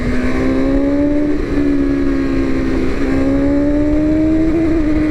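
BMW S1000RR motorcycle engine holding a steady revving drone with a slowly rising pitch, then sagging briefly as it loses power before climbing again, loud and close with no talking.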